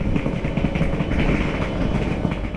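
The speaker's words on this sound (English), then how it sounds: "The train on the adjacent platform is the Eurocity 104 from Graz in Austria" A steady low rumble of rail cars with faint clatter, continuous and fairly close, from a locomotive-hauled Eurocity passenger train at an adjacent platform in Bohumín, Czech Republic.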